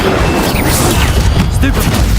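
An Incendio fire spell is cast in the Hogwarts Legacy video game, a loud dense burst of crackling, booming magic effects packed with game noise.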